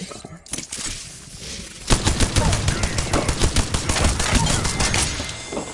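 A video game gun fires in a fast sustained burst after a few scattered opening shots, loud, close and rhythmic, with a rapid stream of sharp cracks.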